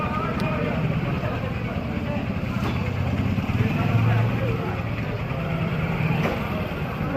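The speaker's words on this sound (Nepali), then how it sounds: "निजगढ पेट्रोल पम्पमा बाइकको ओहिरो लागेको छ" Crowded motorbikes at the Nijgadh petrol pump on the last day of the Singaul fair: a dense low rumble of idling engines nearby, with people talking over it.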